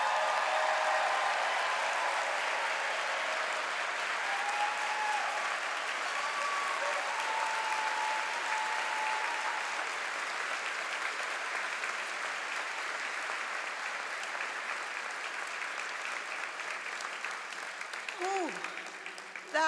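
Sustained applause from a commencement ceremony audience after a student speaker's address, a dense steady clatter of clapping filling the hall for nearly twenty seconds before tapering slightly at the end.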